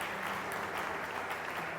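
Congregation applauding during a church service, a steady wash of clapping held at an even, moderate level throughout with no voices rising above it.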